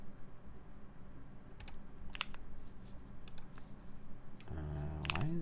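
Typing on a Cyberboard R2 keyboard with Cherry MX Brown switches, quiet scattered key clicks in short bursts at close range over a low background hum.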